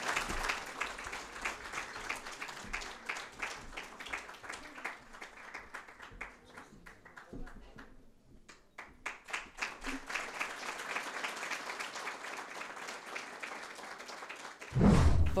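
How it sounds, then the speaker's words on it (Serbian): An award ceremony audience claps for a special business development award, dense steady applause that dips briefly before swelling again, followed by a loud low thump at the end. "Može naravno aplauz još jedan put."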